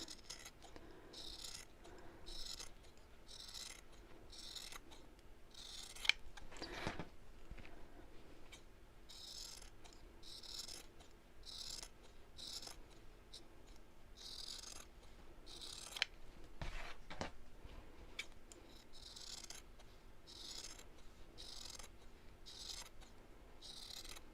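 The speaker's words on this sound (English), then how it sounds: "let's just trim the seam back to around about 1/8 of an inch, or just a couple of millimeters from the stitch" Scissors trim a sewn fabric seam back close to the stitching, giving a steady run of soft, close snips in a quick regular rhythm, quiet throughout.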